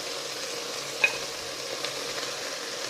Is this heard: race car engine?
no